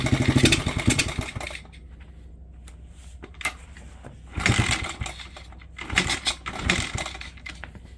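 A Kawasaki KLX 110 dirt bike that sat for years, its carburetor leaking and likely flooding, sputters through three separate start attempts. Each is a rough burst of cranking and popping, with quieter idle-like gaps between them.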